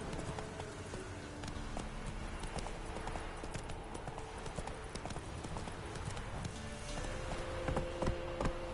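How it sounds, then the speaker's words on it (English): Horse hooves clip-clop at a steady galloping rhythm in The Witcher video game, loud and continuous over ambient game sound, with a brief whinny-like tone near the end. "Run, Roach."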